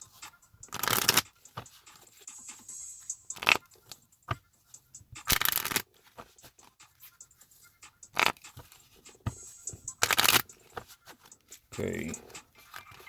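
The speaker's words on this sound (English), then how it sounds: "All right, shuffling the cards." Blade Rondo sword-duel game cards are shuffled by hand in several short, crisp riffling bursts separated by pauses, close up, with a voice speaking briefly at times.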